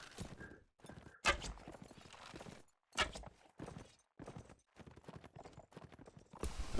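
Horse hooves clip-clop in bursts through a medieval combat video game match, separated by short gaps and mixed with sharp impact sounds, moderately close and fairly loud.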